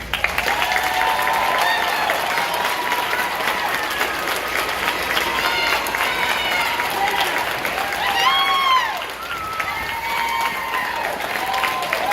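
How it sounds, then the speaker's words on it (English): Sustained applause from an audience at a nurses' pinning ceremony, steady and dense throughout, with some voices and faint tonal sounds over the clapping. "We'd all like to give you a round of applause."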